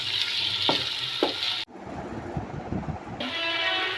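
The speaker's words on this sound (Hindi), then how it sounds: "इसको 2-3 मिनट के लिए भूनूंगी ताकि मैंने लहसुन की जो महक है, कच्चापन, वो ख़त्म हो जाए।" Garlic frying in a pan for a pea pulao, a steady broad sizzle with a few stirring knocks, broken midway by a brief lower rumbling stretch before the bright sizzle returns.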